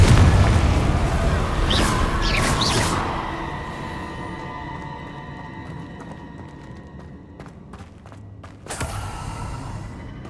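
A fiery spell blast in the Hogwarts Legacy video game: a loud booming burst with crackling debris at the start, decaying into a rumbling tail, then a second sharp crack near the end amid game sounds.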